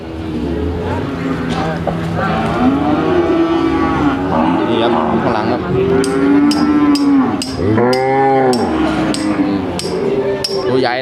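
Cattle at a busy livestock market, two-and-a-half-year-old cows among them, mooing loudly and repeatedly up close over a crowded background of voices and occasional sharp metallic knocks.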